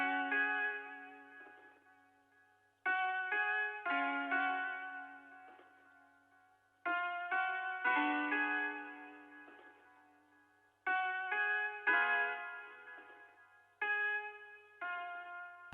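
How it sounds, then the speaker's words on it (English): Electric pluck synth plays a slow, dark counter melody of bright plucked notes, with phrases repeating in groups and each note decaying quickly, alone and clear. "Third sound I use is an electric pluck from Analog Lab."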